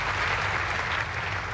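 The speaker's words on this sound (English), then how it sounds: "Can I have a round of applause for my lovely assistant, Miss Debbie McGee?" A short burst of steady audience clapping at a magic show, fairly distant and even, fills the room without any voices over it.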